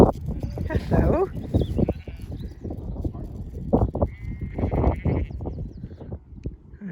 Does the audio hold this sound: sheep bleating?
yes